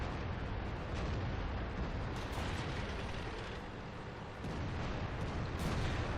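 A heavy IS-3 tank cannon in World of Tanks fires amid continuous loud booming battle noise, dense rumbling blasts and crackling bursts filling the whole stretch with a couple of sharper peaks.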